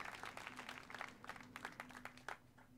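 Scattered applause and clapping rise from characters in a Xenoblade Chronicles 2 cutscene, faint and uneven with individual claps standing out over a low steady background hum.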